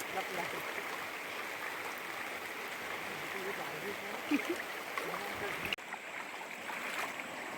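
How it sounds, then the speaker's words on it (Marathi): River water at night, swollen and moving after rain, rushes in a steady, broadband wash that stays level for the whole stretch, with one brief dip near the end. "पाणी वाहत आहे ना त्याच्यामुळे दिसत नाही"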